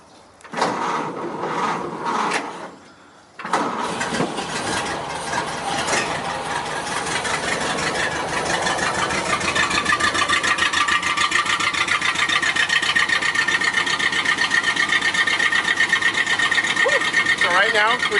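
A Ford Model A barn find's engine cranks briefly, then catches and settles into a steady, rattling mechanical idle that grows busier and louder, close by, with speech near the start.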